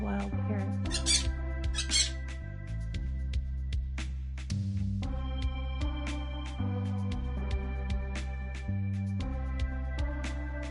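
Wild parrots in Stardew Valley squawk in several sharp, shrill bursts near the start. Upbeat game music with a steady bass line plays throughout beneath them.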